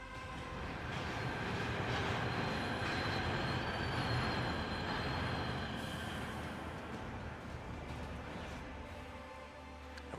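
A train in the Warhammer 40K Rogue Trader game, its boiler driving a heavy, continuous rumble with rattling carriages and squealing wheels, loud and close with no speech.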